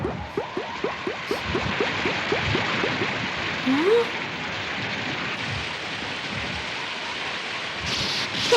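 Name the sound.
rain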